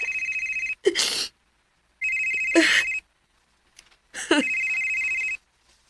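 A telephone rings in three loud, steady electronic bursts with gaps between them, each burst overlapped by a voice and breathy sounds, in a Filipino-language drama scene.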